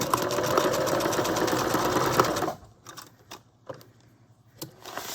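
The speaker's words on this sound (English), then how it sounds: "I'll just do a little bit of stitching" A sewing machine stitches across a paper craft tag for a glassine bag project, running steadily at close range for about two and a half seconds before stopping, leaving only soft handling clicks and rustles.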